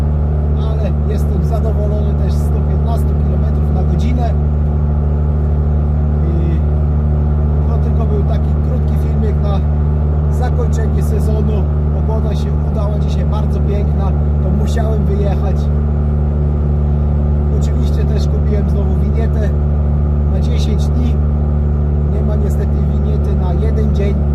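An old orange Fiat 126p Maluch drives fast along a motorway, its engine droning loudly and continuously with road and wind noise, while someone talks over the cabin din.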